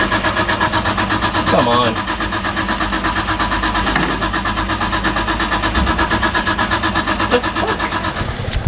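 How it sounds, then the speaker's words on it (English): Nissan R32 with a blown motor cranks repeatedly without catching, a loud rhythmic starter churn running throughout, while a person speaks briefly over it. "We haven't been able to get it start."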